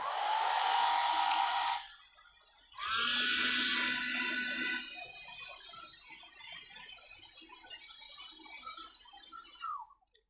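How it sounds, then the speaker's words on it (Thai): A hair dryer on its highest setting blows hot air onto grey and black heat-shrink insulation around electrical wire, a loud steady whoosh in two bursts separated by a brief lull, then a softer continuous blowing that stops abruptly. "เป่าไปรอบๆนะครับจนกว่ายางมันจะหดตัวแล้วก็รัดแน่นนะฮะ"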